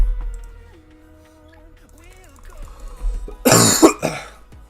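A man with a lingering cough and sinus trouble coughs and clears his throat in a loud, harsh burst near the end, after a stretch of quiet background game sounds.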